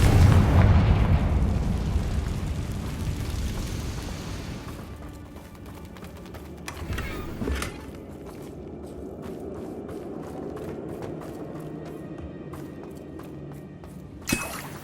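A Confringo blasting spell goes off in Hogwarts Legacy with a loud, deep explosion at the start that rumbles and fades, followed by quieter game ambience and a sharp pop near the end.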